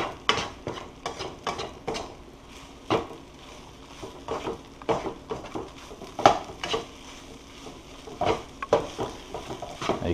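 Chicken fried rice is stir-fried hard in a wok, rhythmic scraping and tossing strokes with clanking metal over a soft sizzle, close and uneven in loudness.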